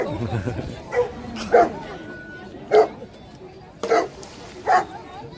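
A water rescue dog at a lifeguard demonstration barks in four or five sharp, separate yelps spaced about a second apart, loud and close over outdoor background noise and faint voices.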